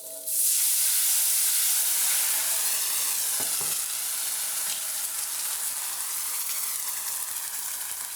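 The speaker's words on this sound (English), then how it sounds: "And now this will both sizzle and smoke, don't be alarmed." Vegetables sizzle loudly and steadily in hot lamb fat, a dense, even hiss that starts abruptly and holds for several seconds with no talking.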